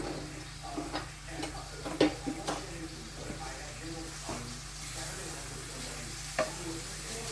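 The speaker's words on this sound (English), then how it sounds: "So the bacon is frying." Bacon sizzles steadily in a frying pan, a constant crackling hiss with scattered louder pops and snaps.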